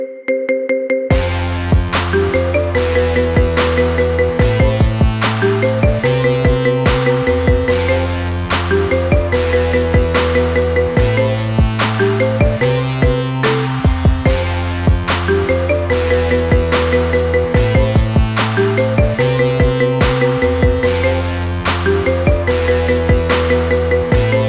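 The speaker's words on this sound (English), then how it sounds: "Get this cool ringtone for your phone now." A bright, looping marimba-style remix of a song as a phone ringtone, over a steady bass beat, playing loudly and continuously with no voices.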